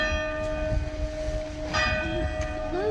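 Church bell in an old village ringing faintly at a distance, a few clear tonal strikes ringing out over steady low background rumble, with no talk.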